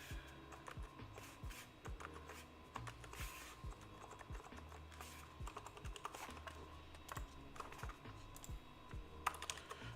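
Rapid, uneven keystrokes clatter on a faulty computer keyboard where only some keys respond, a steady close-up stream of clicks and taps with no voices.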